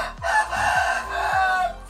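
Chickens and a rooster in a coop beneath a hut: a rooster crows loudly and nearby while hens cluck in a repeating, choppy rhythm underneath.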